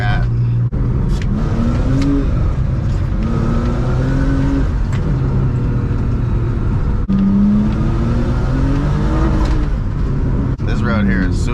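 BMW E46 revving hard in second gear as its wheels spin on a slick, rain-soaked Kentucky back road, the engine note climbing and falling steadily throughout, close and loud inside the car, with a person talking over it.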